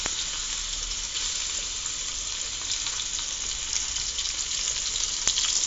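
Chicken pieces sizzle steadily in a hot pan with oil, a close, dense, unbroken frying hiss with no one talking.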